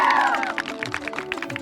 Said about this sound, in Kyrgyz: Бир катыраак бир кол чаап койбойлу.